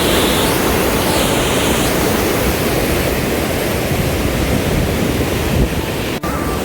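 The Ambika river runs swollen after the first rain, heard as a continuous broad rush of flowing water mixed with wind buffeting the microphone. The sound stays steady and close for several seconds.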